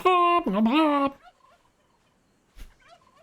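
Turkeys in the video game Cornelius fancies a trip to Guarma gobble loudly and close, a rapid warbling burst, then fall quiet before a brief thump and faint distant calls.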